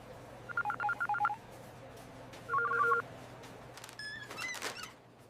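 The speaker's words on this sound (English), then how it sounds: "I am calling the police immediately." A phone's keypad beeps out DTMF dialing tones as a call to the police is placed, two quick bursts of tones followed by a brief ringing-style pattern, fairly close and clear over a low background hum.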